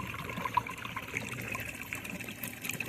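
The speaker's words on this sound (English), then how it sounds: "the outgoing water goes through this tube, and it has this little floater" Water trickles steadily out of an outgoing tube with a small floater on a semi-above-ground oval pool, a soft, continuous close splashing and dribbling with no talk.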